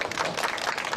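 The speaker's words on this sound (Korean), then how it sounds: "박수" An audience claps at a Korean civic-group gathering in a brief, dense burst of applause from a crowd, steady and moderately loud.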